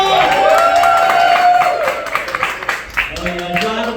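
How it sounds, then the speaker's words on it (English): A comedy-night audience claps and cheers for a comedian, a loud wash of applause that tapers off in scattered claps, with a voice talking over it. "Give it up for JRich, y'all!"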